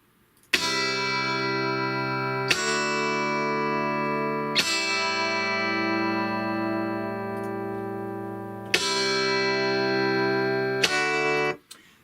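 A clean, single-tracked Strat-style Chellee electric guitar with chorus switched off plays an 80s-style clean part: five sustained chords struck one after another, each ringing out fully, loud and alone.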